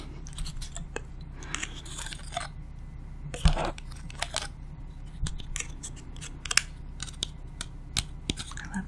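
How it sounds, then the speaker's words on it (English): Crisp, irregular tapping and clicking on a lighter, close and quiet, with scattered light knocks and a sharper clack partway through. "I love the lighter tapping sound."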